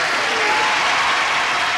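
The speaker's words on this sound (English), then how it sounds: "Brisk applause as we say," Brisk studio audience applause greets game show contestants, a dense, loud and continuous roar of clapping that fills the whole moment.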